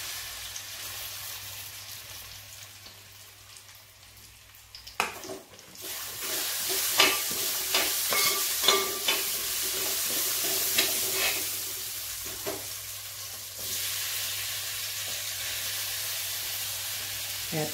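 Chopped banana, apple, grapes and pineapple stirred in ghee in a pan for fruit payasam: quiet sizzling builds after a silent start, with repeated scraping strokes of a spoon against the pan and a steady hiss.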